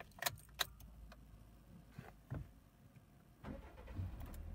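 Keys jangle, then a 2022 Daihatsu Terios X 1.5 with a manual gearbox cranks and starts nearby, settling into a low, steady idle.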